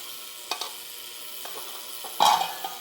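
A heated ultrasonic cleaning machine runs with its lid off, giving a steady fizzing hiss broken by a few sharp clicks and one louder bubbling burst near the end.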